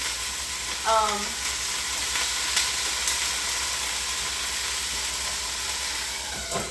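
Steady crackling sizzle of chicken pan frying in olive oil, continuous and close, with a brief faint voice early on.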